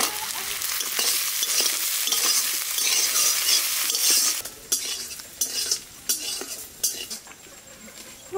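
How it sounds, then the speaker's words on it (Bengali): Onions and green chillies fry in a pan for egg curry, a steady loud sizzle for the first half, then a spoon scrapes and stirs in repeated clattering strokes over a softer hiss. No one speaks. "পেঁয়াজ দেওয়ার সাথে সাথে কটা কাঁচা লঙ্কাও দিয়ে দেবো।"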